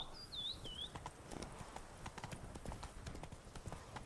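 Roach the horse trotting in The Witcher 3, rapid rhythmic hoof clip-clops continuing throughout at moderate distance, opened by a short whistling chirp, with no talk over it.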